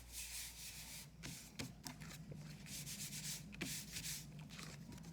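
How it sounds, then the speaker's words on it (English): Paper being rubbed down by hand onto a craft card for a children's Father's Day card: quiet, close scraping strokes in a steady back-and-forth rhythm, a few sharper swipes among them, with no talk. "you can just go over and rub it all down"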